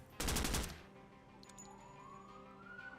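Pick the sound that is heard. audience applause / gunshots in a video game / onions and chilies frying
gunshots in a video game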